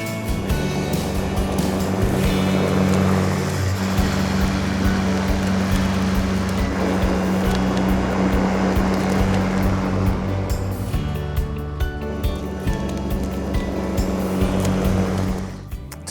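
An EGO LM1903E-SP battery-powered self-propelled lawn mower runs while cutting grass, a steady close hum and whir with blade swish that holds for about fifteen seconds before easing off at the end, with no speech.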